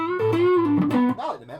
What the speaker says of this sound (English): I'll try the one below it, the rock, what did I say, rock distortion